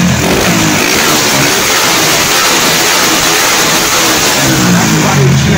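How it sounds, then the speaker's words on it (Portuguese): A 2003 motorcycle with an unfiltered engine revs hard and loud, a rough, continuous roar that swells near the end. "O motor gira."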